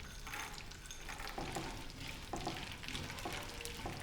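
Gond (edible gum) frying in desi ghee over a low flame, giving a steady close sizzle and crackle with soft stirring scrapes recurring through the pan, with no talking.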